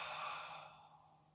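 A single drawn-out breath during a Pilates exercise, close and airy, fading gradually over about a second with nothing else audible.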